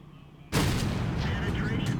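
A high explosive tank shell fires in World of Tanks, a sudden loud blast that cuts in after half a second of low background rumble, then rolls on as a sustained roaring tail.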